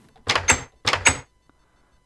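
Front doors in the video game Minecraft open and shut twice in quick succession, each action a pair of crisp wooden clunks, close and clear, with no talking.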